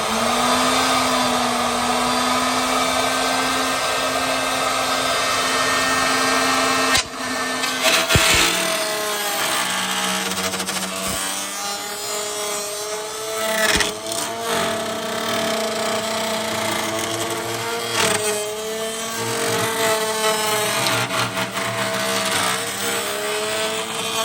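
A speed-adjustable router mounted in a router table cuts wood with a loud, steady high whine and broadband roar, pitch dropping as the bit bites in around seven seconds, then grinding on continuously with small surges.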